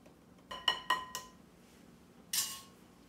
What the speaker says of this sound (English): And you want to stir in the baking soda.